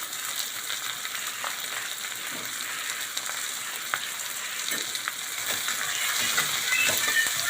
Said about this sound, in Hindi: अच्छे से भूनेंगे इसको। जलाना नहीं है हल्दी को